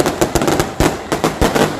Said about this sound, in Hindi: जो आवाज़ आपको आ रही है दूर तक, वो इसी तरीके से बम पटाखों की आ रही